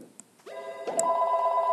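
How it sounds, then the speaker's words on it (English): A telephone ringing during a snowy-hills game session: a sharp electronic ring starts and then holds a bright steady tone, loud and close, with no talk over it. "Phone!"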